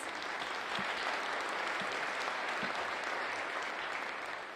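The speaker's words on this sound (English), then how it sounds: "So a round of applause for our MSU students." A steady round of applause from a crowd at an awards event, clapping continuously and fairly loud throughout without pause.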